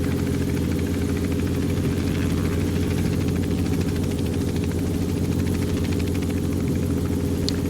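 A helicopter engine in a flight simulator on a Grand Canyon tour drones steadily and loudly throughout, a constant low rumble with a smooth whirring layer above it and no voices.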